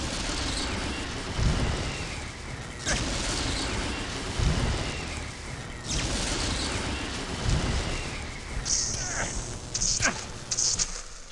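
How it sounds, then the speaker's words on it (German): A lightning spell cast in the game Gothic crackles in repeated sharp thunder-like bursts over a rumbling background, with a few brighter zaps near the end. "schauen wir mal, was Blitz hier für einen Schaden reißt"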